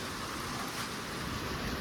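Heavy rain and wind in a storm, a dense, even roar of downpour filling the whole moment with no break.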